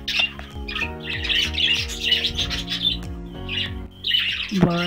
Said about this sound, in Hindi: और ये हम जितने तोते लाए थे तकरीबन सब हमने इसमें छोड़ दिए हैं